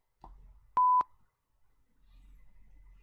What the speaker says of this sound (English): somebody got a censor beep